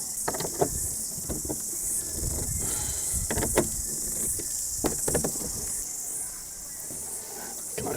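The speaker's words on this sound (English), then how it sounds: "Cicadas is just so noisy this time of year." Cicadas drone outdoors in summer, a steady high-pitched buzz running the whole time, with scattered nearby knocks and handling noises on top.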